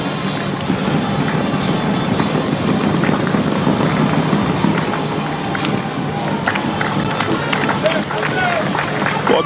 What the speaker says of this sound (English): receiving the applause after he crossed the finish line